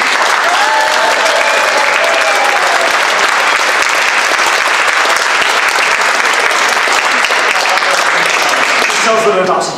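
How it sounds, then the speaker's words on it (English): A live audience breaks into a steady round of applause for a Football League Fan of the Year, loud and sustained for several seconds before tapering off at the end, with no talk over it. "we'll give him a round of applause for this"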